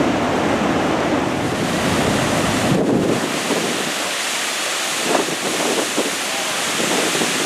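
Niagara Falls roars as a steady, loud broadband wash of falling water, close and continuous throughout with no talking, the rushing noise briefly surging and thinning.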